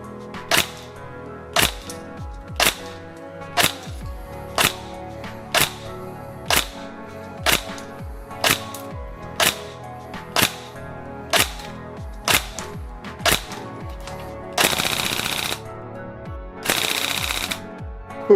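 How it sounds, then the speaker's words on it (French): A Tokyo Marui HK416D Devgru Custom next-gen recoil shock airsoft rifle fires a long series of evenly spaced sharp single shots, close and crisp, then two short full-auto bursts near the end. "on va aller au test chronie et au test de tir"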